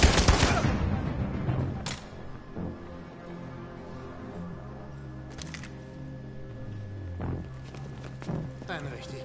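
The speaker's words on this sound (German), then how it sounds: "Ein richtig guter Schuss, Kram." A burst of video game gunfire opens loudly in Detroit: Become Human, followed by a few scattered sharp shots amid footsteps and talking voices.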